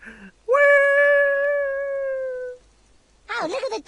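Dogs in the RuneScape video game give a long, sustained, tonal howl that holds steady then fades, followed by a brief burst of game character speech.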